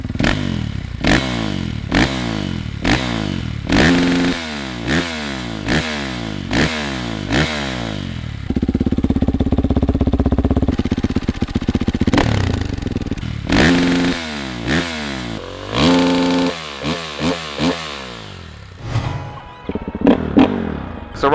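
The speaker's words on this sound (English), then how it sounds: "my friend's 2021 Husqvarna FE450 with the same Alibaba Express exhaust" A 2021 Husqvarna FE450 dirt bike with a cheap aftermarket exhaust and no dB killer revs repeatedly in sharp bursts, then holds a sustained high rev before more rapid throttle blips, loud and close.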